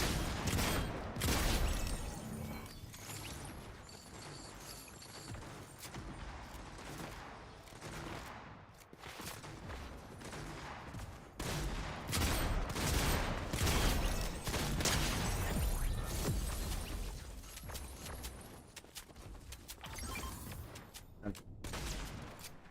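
Rapid bursts of auto shotgun fire in a Fortnite match, loud repeated blasts in quick volleys with brief pauses, mixed with other game effects and mechanical clicks, continuing throughout.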